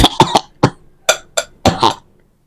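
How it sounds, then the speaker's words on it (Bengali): A person coughing repeatedly at close range, about seven short harsh coughs in quick irregular bursts over two seconds, then silence. "আমার কেমনি কাশি লাগতেছে।"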